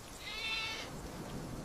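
A single short bleat from a goat, fairly faint and somewhat distant, over quiet background noise.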